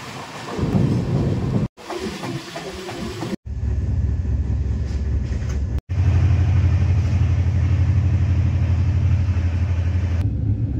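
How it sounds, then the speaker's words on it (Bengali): The Kanchan Kanya Express running after leaving a station, a loud steady low rumble of the moving train with a few abrupt cuts and shifts in the roar. "আমাদের ট্রেন এখন ছেড়ে দিল কামারকুণ্ডু রেলওয়ে স্টেশন"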